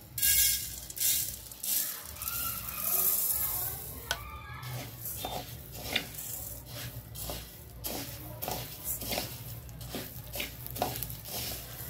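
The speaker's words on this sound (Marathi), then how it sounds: "आपण 1 चमचा तेल घालूया, आणि आपल्याला हे पहिल्यांदा धने भाजून घ्यायचे" Coriander seeds sizzle and crackle as they roast in a spoonful of oil in a pan over a low flame, with steady frying hiss and occasional stirring clinks, all close up.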